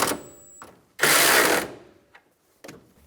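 A hand ratchet clicks in short bursts while snugging down the radiator mounting bolts on a 2005-2015 Toyota Tacoma 2.7L four-cylinder, close and crisp, with a quiet pause between the bursts.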